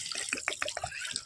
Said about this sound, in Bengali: চলো তরকারিটায় জল দিয়ে দিই।